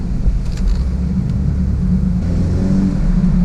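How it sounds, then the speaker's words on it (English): Turbocharged engine of a 2018 BMW 430i Convertible, a steady low rumble with faint turbo whistle and wind noise, rising slightly as it accelerates. "the little turbos sound good, man"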